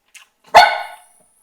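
A single sharp dog bark, loud and close, with a faint short sound just before it and quiet afterward.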